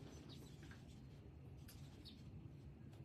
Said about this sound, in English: I hear a little bird chirping outside the window here.